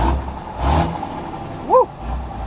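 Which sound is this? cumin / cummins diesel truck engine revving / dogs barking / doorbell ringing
cummins diesel truck engine revving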